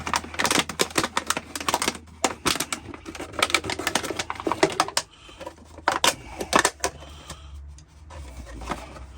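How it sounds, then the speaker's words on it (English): A knife saws around a plastic bottle being cut into a fruit picker, giving loud, irregular crackling and crunching bursts close up. "Just cut around the bottle."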